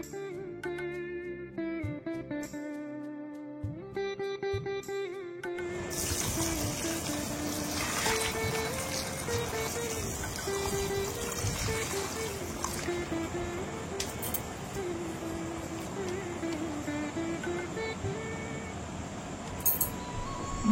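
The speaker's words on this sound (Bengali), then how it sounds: "ভাতে জল দিলাম" Water poured into a pot of leftover cooked rice gives a close trickling and splashing pour with faint clinks from the vessel, preceded by a few tonal clinking taps.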